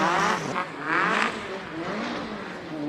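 A classic car's 2.3-litre engine with twin downdraft carburettors revs loudly at Speed Classic Cape Town, its note surging, dipping and rising again, with no voices over it.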